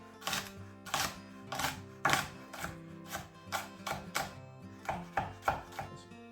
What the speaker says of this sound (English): Try and slice these quite thinly if you can.